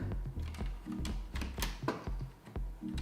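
A Corsair computer keyboard is typed on rapidly, close up: sharp key clacks arrive in quick irregular bursts while the keys control movement in Fortnite on a PlayStation 4.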